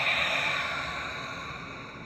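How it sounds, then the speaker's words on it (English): A slow, deep breath drawn in through the nose and released through the mouth during a guided calming practice, a soft steady airy rush that gradually fades, with no talking. "We'll take a deep inhalation in through the nose. And then exhale out the mouth."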